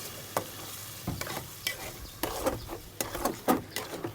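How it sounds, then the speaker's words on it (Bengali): Potatoes stir-fried in spiced oil for alu ghati, a North Bengal dish, with a spatula scraping and clacking against the pan in irregular strokes over a soft, steady sizzle, close and moderately loud. "এবার আমি আলুগুলো দিয়ে আলুটা অনেকক্ষণ ধরে কষিয়ে নেব।"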